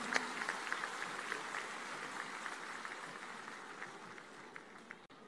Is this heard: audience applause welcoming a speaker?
yes